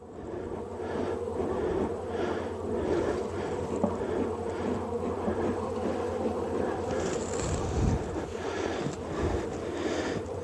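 A honeybee hive roused by smoke gives off a dense, steady buzzing drone throughout, close and fairly loud, with a faint rustling and wind noise beneath it.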